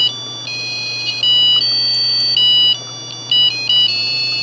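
A homemade digital alarm clock rings with a steady electronic tone, pulsing and shifting in pitch in repeated beeping bursts over a faint low hum.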